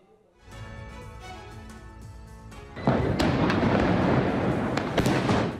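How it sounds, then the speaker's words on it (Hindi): Firecrackers crackle and boom in a dense, continuous barrage across Delhi neighbourhoods during Diwali, growing much louder partway through, with sharp individual bangs standing out. "धड़ाम धड़ाम करते पटाखे"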